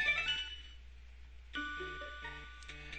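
Electronic chime jingle from the Pokénav phone number registration in the Pokémon Emerald video game: a short beeping phrase, a pause, then a longer melodic sequence of bright synthesized tones, clear and alone.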